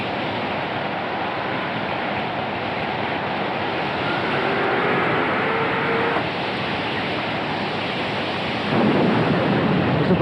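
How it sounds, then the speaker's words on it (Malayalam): Heavy rain falls in a steady dense roar with a deep thunder rumble underneath, growing slightly louder toward the end, with no voices. "മഴ പെയ്തേക്കും തോന്നുന്നു."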